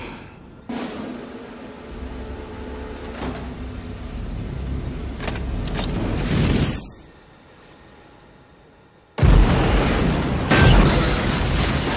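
Sci-fi hover tank firing in a film scene: a sustained roaring, rumbling blast that cuts off abruptly, followed after a short lull by another loud burst.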